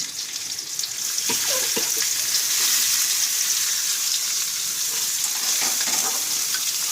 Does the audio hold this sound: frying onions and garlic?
yes